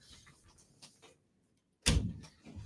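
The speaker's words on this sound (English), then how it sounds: "let me close the door here real quick" A door slams shut indoors with a single loud, close thud after a quiet moment, followed by a brief rattling tail.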